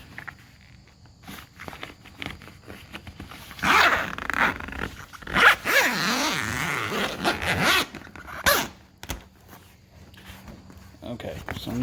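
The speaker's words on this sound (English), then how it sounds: "there's a zipper on this side. It goes all the way around." Zipper pulled open along a Jeep soft top window panel, with several quick ripping zip strokes of varying length, close and fairly loud, separated by handling noises and pauses.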